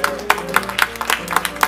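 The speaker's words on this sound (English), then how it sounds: "Come on, clap your hands again." A church congregation at a Baptist service claps in unison, a steady, even beat of hand claps roughly four per second, close and bright over a faint hum.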